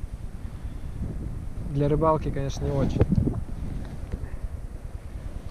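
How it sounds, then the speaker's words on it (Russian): Strong wind blows by the Inya river, making a steady, rumbling gusty roar against the microphone throughout, with someone talking briefly through the middle. "Ветер, к сожалению, сегодня сильный."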